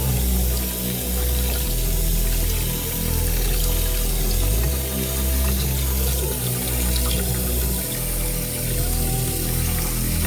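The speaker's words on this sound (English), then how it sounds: "Rinse it out with hot water." Hot water from a tap runs steadily while a dirty K&N air filter is rinsed under it, a continuous splashing rush with shifting water flow and a faint low hum beneath.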